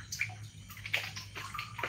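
Water sloshes and drips softly as a fish net holding day-old catfish fry is lifted quietly out of a tank, with gentle trickling and small splashes throughout and no talking.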